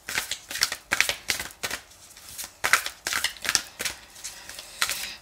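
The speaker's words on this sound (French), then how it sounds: "je vais tirer 3 cartes de l'oracle du cercle par rapport à l'international" Oracle cards shuffled by hand in a steady run of crisp riffling bursts, each a short papery flutter, close and fairly quiet with no voices.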